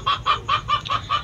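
A chicken clucks six times in quick, even succession, each cluck loud and close with no voices over it.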